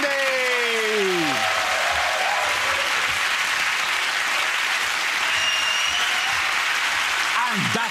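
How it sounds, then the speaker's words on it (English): A studio audience at a comedy panel show bursts into loud, sustained applause, with a brief whooping voice rising and falling at the start and a crowd-filled roar carrying through to the end. "that round of applause to Russell, Zoe and Andy."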